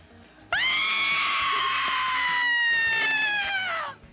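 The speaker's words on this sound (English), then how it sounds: "Should I get a horror movie scream" A horror movie scream sound effect: one long, piercing shriek that bursts in suddenly, holds loud and steady with a slightly falling pitch for about three seconds, then trails off.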